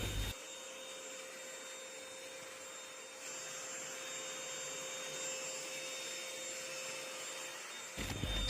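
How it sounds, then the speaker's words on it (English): An OSMON V12 handheld vacuum cleaner runs steadily, giving a constant whine with a high motor tone for about eight seconds, starting and stopping abruptly. No one speaks. "We can't expect everything from a tiny vacuum cleaner."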